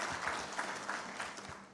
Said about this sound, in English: A round of applause for those businesses.